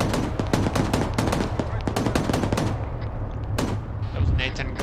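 Dense gunfire from an air gun run in the military game ArmA 3, a sustained roar of rapid cracks and booms filling the whole stretch at steady loudness, with voices partly mixed in.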